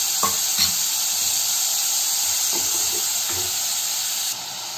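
Chopped onion, capsicum and green chili sizzle loudly and steadily in a hot oiled pan, with a few soft scrapes and taps of a spatula stirring them.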